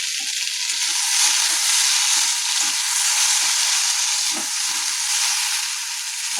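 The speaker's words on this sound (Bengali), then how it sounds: "আলু ভাজাটা করে দিই" Potatoes fry in hot oil with a loud, continuous sizzle, broken by occasional soft knocks and stirring sounds.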